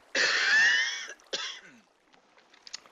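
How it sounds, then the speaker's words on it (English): A person coughs and clears their throat close to the microphone, one harsh extended rasp followed by a shorter hack and fainter trailing sounds. "Can't seem to shake this cough."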